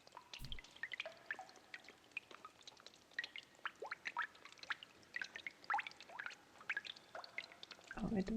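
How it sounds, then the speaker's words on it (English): Water dripping in the Umineko no Naku Koro ni visual novel game: scattered, fairly quiet drops and pours fall at an uneven rhythm against a dim background. "I don't like that sound of water."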